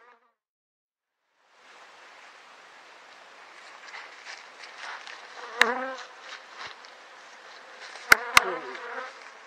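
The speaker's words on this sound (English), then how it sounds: "These are ferocious little bees," Bees around a Flow Hive buzz in a dense, steady drone that starts after a moment of quiet, with a few insects zipping loudly close by.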